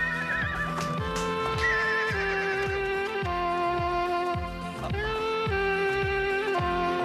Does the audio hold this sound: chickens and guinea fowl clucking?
no